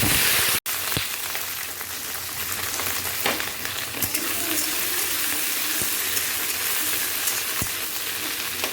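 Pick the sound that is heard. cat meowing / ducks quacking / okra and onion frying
okra and onion frying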